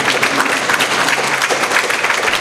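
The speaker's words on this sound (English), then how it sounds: "Can we stand up and give a round of applause for all these real heroes?" A seminar audience at an institute standing to applaud armed forces heroes, continuous many-handed clapping filling the room at a steady, loud level.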